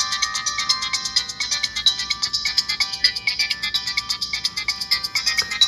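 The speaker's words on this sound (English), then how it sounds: "that's enough of the ringtones" A Virgin Mobile Kyocera phone plays a ringtone, a loud, bright electronic melody of quick repeating notes in a steady pulsing rhythm, heard close and alone.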